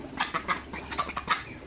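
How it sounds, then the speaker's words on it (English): A female broiler duck calls in a rapid series of harsh, raspy quacks, about seven short bursts in under two seconds, fairly faint and close with no talk over it. "in this method we can identify the female ducks through its sound"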